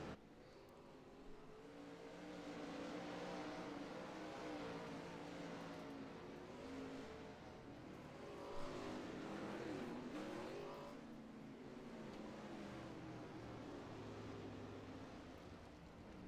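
Wingless 360 sprint cars race in a heat at Limaland, with several engines droning and revving together in a continuous, rising and falling roar from mid-distance, fairly faint.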